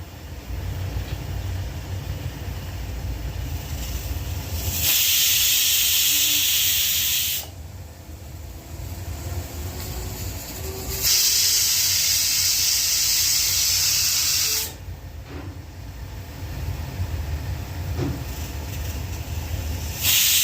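A pressure cooker on a stove, cooking fish, lets out two loud, sustained whistling hisses of escaping steam, each lasting a few seconds, over a steady low kitchen hum.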